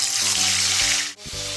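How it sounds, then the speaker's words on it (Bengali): Black pomfret fish frying in mustard oil, a loud continuous hiss and sizzle over a low steady hum, with a brief dip near the end before the crackle returns. "মাছটা এবার ভেজে নেব।"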